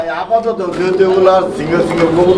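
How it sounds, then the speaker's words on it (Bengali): Bombay and grizzle pigeons kept paired at a pigeon farm coo together in a steady, continuous murmur of overlapping throaty calls, close and fairly loud. "এটা বোম্বাই কবুতর আর গ্রিজেল কবুতর মিলে জোড়া দিয়ে রাখছে"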